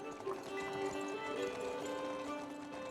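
Horse hooves clip-clop at a steady riding pace in the Arthurian video game Legends of the Round, a rhythmic tapping set against soft background music.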